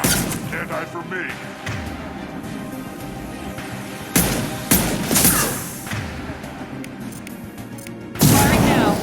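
Heavy gunfire and explosive booms in the video game Mass Effect 2, loud and near, with continuous rapid bursts and sharp blasts at intervals, under game voices.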